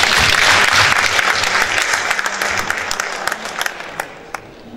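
An audience at a psychologist's talk claps in a thick burst of applause that starts loud and gradually thins and fades, with a few scattered claps near the end.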